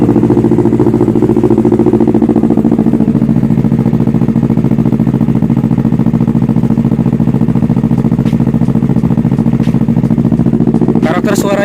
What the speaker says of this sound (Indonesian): kita dengerin suara knalpot dari Leo Vince